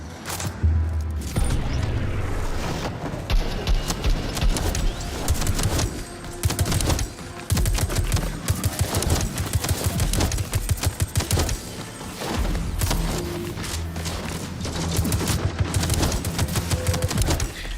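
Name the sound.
SMG firing in video game Metal Eden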